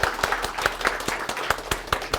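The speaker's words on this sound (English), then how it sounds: "let's give one more quick round of applause for our speakers" A small audience claps for the speakers at a developer meetup, steady rhythmic hand claps close by, brief and moderately loud.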